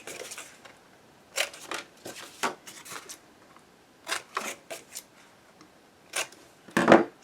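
Scissors snipping the corners off paper pieces for an accordion-and-flaps mini album: short close crisp snips in small clusters with quiet gaps, ending in a louder rustle or clunk.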